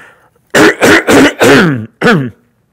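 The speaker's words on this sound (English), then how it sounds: "Let me clear my throat again." Someone clears their throat forcefully, close by: several gruff rasping bursts in a row, then one more short hack after a brief pause.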